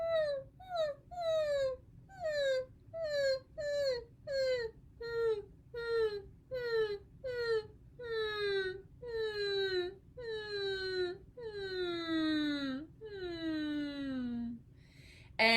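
A person's voice imitates a sad puppy whimpering, producing about twenty rising-then-falling whines in a steady series, starting short and quick and stretching longer toward the end, close and clear with no other sound.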